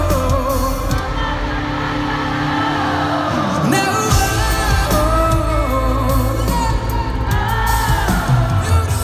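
Concert crowd at a tour show in 2019 screams and sings along, a dense, constant roar of voices blended with loud amplified music filling the arena.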